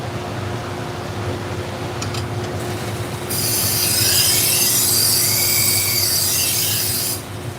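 A knife being sharpened: a steady, rough grinding hiss begins after a few seconds over a low background hum and runs for about four seconds before cutting off, with no talking.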